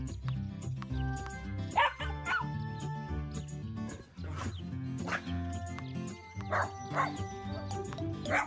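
A cartoon puppy barks in scattered short yips and woofs over steady background music, sounding fairly close and mixed among other playful cartoon sounds.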